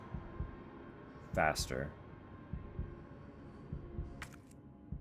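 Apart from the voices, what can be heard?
heartbeat sound in the video game Resident Evil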